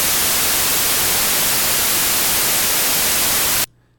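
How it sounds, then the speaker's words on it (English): A steady, loud burst of broadband white noise used as an audio test signal runs for several seconds, then cuts off abruptly, leaving a faint low hum. "This is going to be white noise that we're going to work with."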